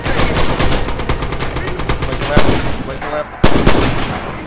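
Gunfire in Red Orchestra 2 infantry combat crackles in fast, continuous bursts with a couple of sharper, louder nearby shots, while a player briefly speaks over it.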